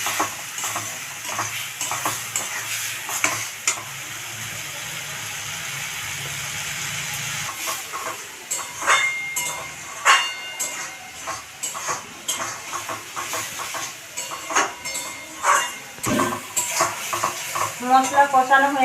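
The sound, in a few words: spice paste being sautéed and stirred in a pan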